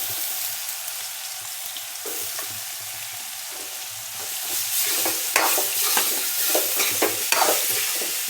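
Radish pieces sautéing in oil with turmeric and salt for a chutney, a soft steady sizzle that swells as more radish drops into the pan, with scraping stirs and clicks, close and without talking.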